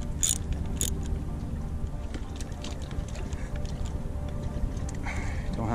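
Ratchet wrench tightening a bolt with sockets while fitting a starter onto a sailboat's outboard engine, giving quick mechanical clicks over a steady background hum, in a cramped spot.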